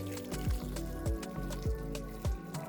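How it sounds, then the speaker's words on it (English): Hot water is poured over seasoned meat with onions in a pot for boiling, giving soft splashing and repeated liquid drips and plops at a fairly regular rhythm, close and moderately quiet. "So right now I'm just going to pour some hot water"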